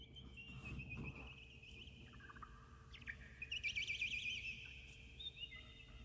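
Bird calls within a song recording, a faint, rapid string of high twittering chirps over a low, steady musical bed.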